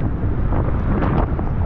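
Strong wind roars and buffets the microphone at a river mouth in the Philippines in a dense, continuous low rumble, with a watery wash of large waves in the background.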